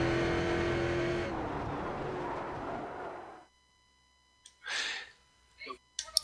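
A race car at speed finishing a lap of the Okayama short circuit, a loud close engine drone with a commentator talking over it, cutting away abruptly to near silence broken by short bursts of voice.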